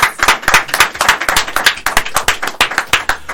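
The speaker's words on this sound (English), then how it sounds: "we're going to give him a round of applause before we let him go" An audience at a talk show gives a round of applause for boxer Larry Holmes, a brisk, steady clapping of fairly close hands that runs throughout without any talk over it.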